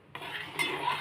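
A spoon stirs oats and milk in a bowl, scraping and clinking against the sides in a short, steady swirl up close.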